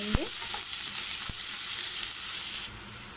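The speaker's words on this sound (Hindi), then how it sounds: "अब हम प्याज को अच्छी तरह से भूनेंगे।" Chopped onions sizzle steadily in hot oil in a pan for a Hindi-style rohu fish egg curry, with a few sharp knocks and scrapes of a spoon stirring them early on and the frying hiss continuing throughout.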